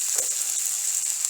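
Onion, garlic and ginger hit hot oil in a pan with melted sugar and crackle into a bright, close sizzle, dense and even for the whole brief moment.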